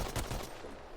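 AK rifle fire in a shooting video game: a rapid burst of loud, close shots packed into the first half-second, then a fading tail.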